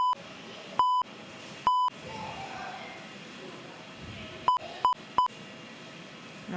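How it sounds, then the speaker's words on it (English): Several short, loud, pure censor beeps cut through a live planespotting stream at Perth, two early and three quick ones near the end, over steady background noise and murmuring. "I beep it."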